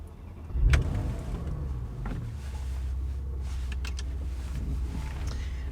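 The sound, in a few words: Porsche Macan GTS car driving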